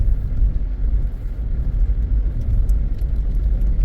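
A car driving fast over a rough, potholed, slushy road near Rishikesh produces a heavy, close low-frequency rumble with uneven thumps and jolts, and faint ticking knocks toward the end.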